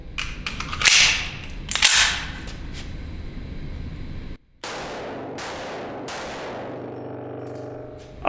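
Several sharp, loud reports from a stainless Desert Eagle .50 AE pistol with an integral muzzle brake, fired one at a time with pauses between, each blast trailing off into a ringing decay outdoors.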